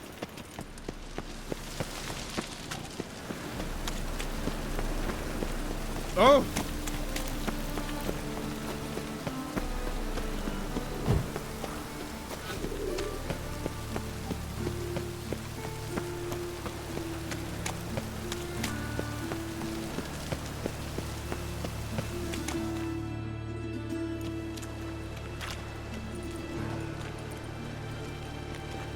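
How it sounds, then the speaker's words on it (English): Steady rainfall patters on surfaces through a long stretch in the video game The Witcher, mixed with faint game ambience, thuds and a brief exclamation. "Rain again."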